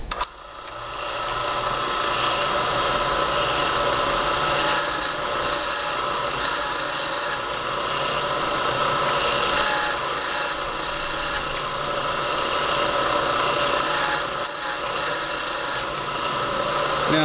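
Burgmaster turret drill press drilling holes in a workshop, a steady loud grinding rasp of the bit cutting through metal with the machine's motor hum underneath, continuous and close.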